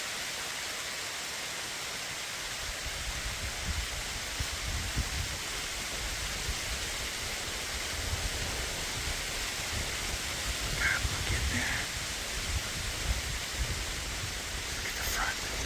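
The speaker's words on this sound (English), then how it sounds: "it's just pouring down rain" Heavy rain pours down on a farm in fall, a dense, steady hiss of falling water that carries on throughout, with someone talking faintly at times underneath it.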